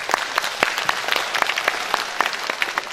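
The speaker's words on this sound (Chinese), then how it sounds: "那么接下来让我们用掌声再次有请" An audience claps to welcome a singer at a concert, a dense burst of hand claps with sharp individual smacks throughout, steady and close.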